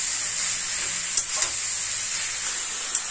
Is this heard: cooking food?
yes